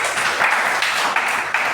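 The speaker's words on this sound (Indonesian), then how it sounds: "Beri tepuk tangan buat kakak." A classroom of students claps for a classmate in a brief, dense burst of applause lasting under two seconds, close and fairly loud.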